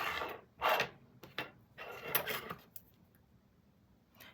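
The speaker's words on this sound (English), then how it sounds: "and cut off the yarn" Scissors cut off crochet yarn after a headband piece is finished, making a few close, crisp metallic snips and clicks in quick, uneven succession, then quieter handling noise.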